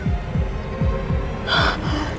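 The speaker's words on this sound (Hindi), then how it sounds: "तुम्हारे दिल की धड़कन भी बहुत तेज चल रही है।" A rapid, throbbing heartbeat sound effect marks a tense dramatic moment with a racing pulse. Low thumps repeat at a steady fast pace behind a humming music bed, and a brighter swell rises briefly near the end.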